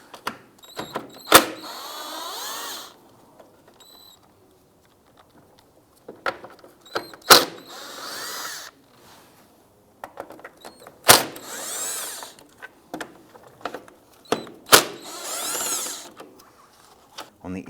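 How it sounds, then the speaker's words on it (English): A 10mm socket driver loosening and removing bumper screws on a 2008-2013 Nissan Rogue, several short bursts of whirring ratcheting close by, separated by quiet gaps and clicks. "Using a 10mm socket, we're going to loosen and remove the 4"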